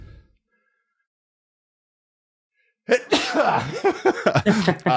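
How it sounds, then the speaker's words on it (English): A single loud sneeze erupts near the microphone after a stretch of silence, followed by a quick sniffling breath. "Gonna sneeze."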